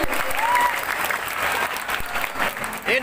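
Applause for a student council candidate at a school election debate, steady clapping from an indoor crowd lasting a few seconds, with some cheering mixed in.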